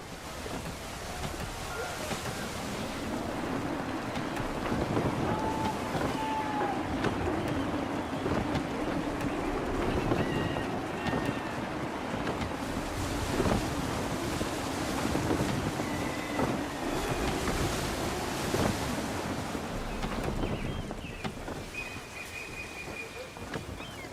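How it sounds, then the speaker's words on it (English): Steady wind and rolling waves surround a sailing ship in Assassin's Creed 3, a constant rushing bed of surf and gusts with faint creaks and occasional voices underneath. "Wind looks to be shifting. Stay alert, Connor. Gusty winds can be difficult to manage."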